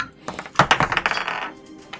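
Dice clatter down through a black walnut dice tower, a quick burst of bright wooden clicks and rattles lasting about a second, close and fairly loud, then settling into quiet.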